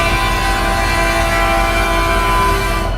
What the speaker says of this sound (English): It does seems like the train horn itself